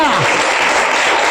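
A church congregation at a Spanish-language service breaks into dense, sustained applause right after a voice trails off, the clapping loud and close.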